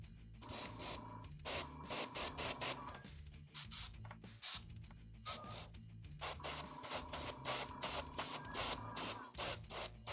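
Airbrush spraying paint onto a Games Workshop Drukhari miniature, a loud hissing spray in repeated short bursts with brief pauses, close up and with no talking.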